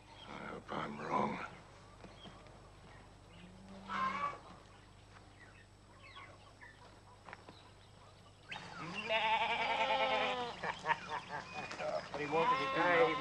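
Sheep bleat out in the open, a few calls at first, then a louder, denser stretch of several overlapping bleats toward the end, with a voice speaking in between.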